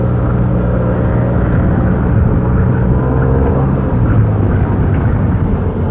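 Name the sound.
Yamaha T-Max 530 scooter engine with standard exhaust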